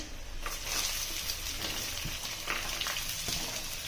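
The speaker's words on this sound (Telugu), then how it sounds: "ఇప్పుడు ఉల్లిపాయలు వేస్తున్నానండి" Onions added to a pan with green and dried chillies for a curry fry in a steady, moderate sizzle with soft crackles throughout, close by and unbroken by speech.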